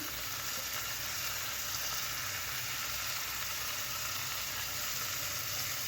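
Green peas, curry leaves and green and red chilies sauteing in a pan for arisi upma, giving a continuous, even, hissing sizzle heard close up, with no talk over it.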